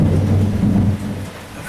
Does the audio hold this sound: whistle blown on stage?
no